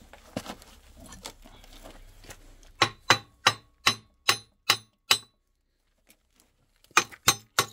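Hammer blows on engine parts while a Peugeot 1.9 diesel is stripped down, the crankshaft coming out: a muffled stretch of rustling, then seven sharp, evenly spaced metallic strikes, a pause, and three more, close and loud.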